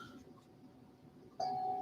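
A meditation bell strikes once near the end, a clear sustained ring rising abruptly out of quiet room tone and holding as it begins to decay.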